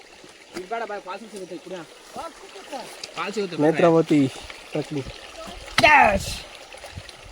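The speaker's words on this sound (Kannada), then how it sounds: "ಇಲ್ಲೆಲ್ಲ ನೀರು ಹರಿಯೋ ನೀರು ಕೇಳಿಸ್ತಿದೆ" Stream water flowing along a forest trail on the Nethravathi trek, a steady faint rush beneath frequent close conversation between hikers.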